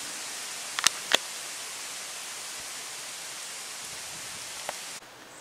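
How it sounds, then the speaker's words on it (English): Heavy rain from Hurricane Helene pours in a steady hiss at night, with a couple of brief sharp knocks early on, before the sound cuts off near the end. "this is about as heavy as the rain got."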